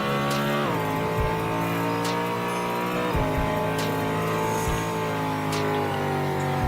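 Koenigsegg Agera V12 mod car in the racing game SLRR, a loud steady engine drone with two downshift-like pitch drops and brief tire squeals, with no voices.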